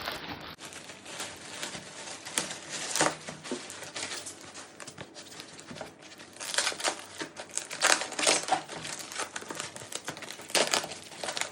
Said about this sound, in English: Let's unbox it first.